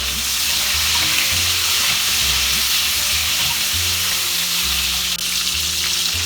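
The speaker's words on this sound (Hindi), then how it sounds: "अभी हम परवल शैलो फ्राई करेंगे, बोथ साइड इवनली।" Pointed gourd (parwal) shallow frying in oil in a pan, a steady dense sizzle that holds loud and close throughout, with faint low background hum and no talking.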